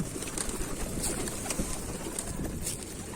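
Pigeons coo softly inside a coop housing Akkanat Ak Kuyruk birds, a few faint calls over a low background hiss, with no voices.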